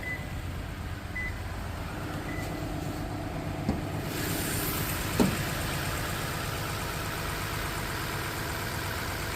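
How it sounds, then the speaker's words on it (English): A Toyota Land Cruiser 200 series with a 5.7-litre V8 idles steadily under the open hood, a quiet, even mid-range drone lasting throughout with a couple of brief clicks. "Pop the hood one more time so you can listen to the motor."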